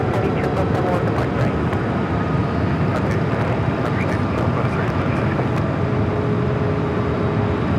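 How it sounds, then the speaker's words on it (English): A Spirit Airlines Airbus A321 at LAX produces a loud, continuous low jet engine roar that holds steady and close, with faint clicks layered over the top. "Spirit A321 heading over to the West Kicks."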